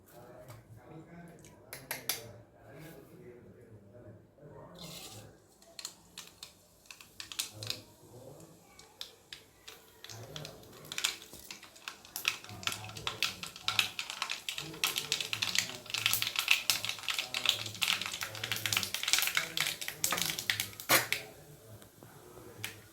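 Mustard seeds splutter in hot oil for a mango mint rice tempering, a rapid crackle of tiny pops that builds from sparse to dense and loud, close up, with a voice talking quietly at the start.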